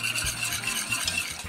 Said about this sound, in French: je vais donc remuer